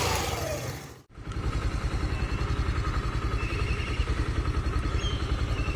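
A Suzuki GSX125 motorcycle engine starts after a brief silence, then settles into a steady, close, even idle with regular pulsing beats and no talk.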